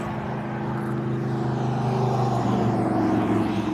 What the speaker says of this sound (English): busy road next to me. Look at all those potential rides zipping past. It's so loud.